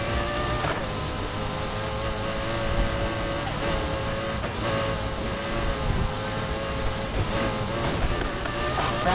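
A Mercedes G63 AMG engine in the racing game Need for Speed Heat drones steadily and loudly, with slight rises in pitch throughout.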